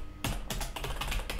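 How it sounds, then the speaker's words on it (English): Computer keyboard typing, a quick irregular run of close, crisp key clicks with brief pauses between bursts, quiet and alone. "I like to do this typing"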